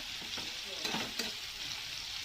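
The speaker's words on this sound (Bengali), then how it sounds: "তো দেখো এভাবে নাড়িয়ে চাড়িয়ে উল্টিয়ে দিলাম এগুলো ভালো করে" Green tomatoes and prawns fry in a pan while being stirred, a steady close sizzle with a few scraping stir strokes breaking through.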